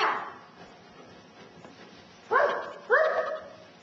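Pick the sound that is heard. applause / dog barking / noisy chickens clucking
dog barking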